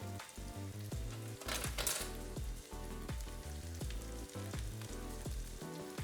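Vegan Salisbury steak patties frying in oil in a pan give a steady, even sizzle throughout, alongside a rhythmic musical backing.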